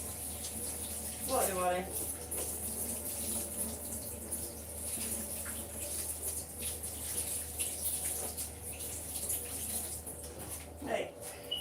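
Running tap water as hands stained orange are washed, a steady close rush with occasional splashy changes, under a person's brief talking.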